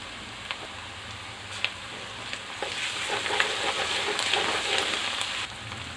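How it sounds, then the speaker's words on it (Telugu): Sliced onions and ginger-garlic paste frying in a pan for a bitter gourd curry, a continuous close sizzle with crackling pops and occasional stirring scrapes, gradually growing louder. "ఉల్లిపాయలు ఇవన్నీ గోల్డ్ కలర్ రావాలి అల్లం వెల్లుల్లి పేస్ట్ కొద్దిగా వేసుకున్నాం"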